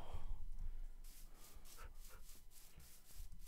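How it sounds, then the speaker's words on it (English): A dog in the Minecraft video game pants quietly in quick, rhythmic breathy bursts, with a faint rubbing texture underneath and no speech. "I'm adventuring with my puppy."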